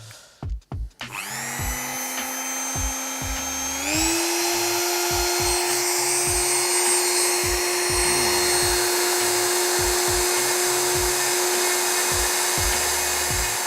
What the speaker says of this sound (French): je vais attaquer avec la petite fraise pour commencer à dessiner en fait les contours